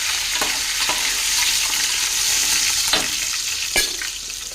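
Cumin seeds, mustard seeds and curry leaves sizzle steadily in hot oil for upma, with a constant bright crackle broken by a few sharp pops and spoon scrapes as the pan is stirred.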